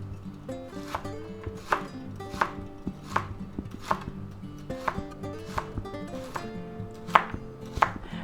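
A knife slices mushrooms on a cutting board in a steady rhythm of crisp, close chops, about ten evenly spaced cuts with a faint woody knock, and no voices.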